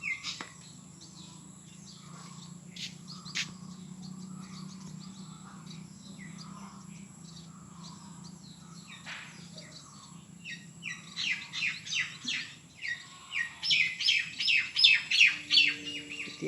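A bird calls from a tree, its chirps scattered faintly at first, then growing louder and more frequent near the end over a steady low hum and insect-like background.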